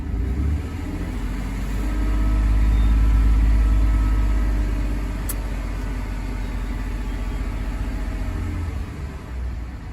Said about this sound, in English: Let me give it a little rev